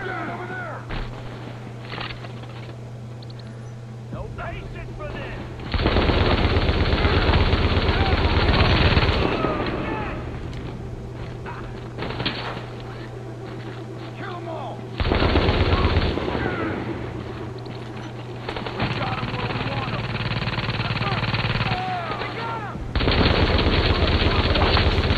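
Machine gun fire in the shooter game The Division rattles in long, loud sustained bursts separated by short lulls, with continuous battlefield noise underneath and voices in the mix.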